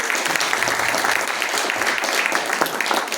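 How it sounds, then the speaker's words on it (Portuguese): An audience at a Paraná symposium on rare eye diseases gives a short burst of lively, even applause. The clapping is close and steady throughout, with no speech over it. "Vamos aplaudir."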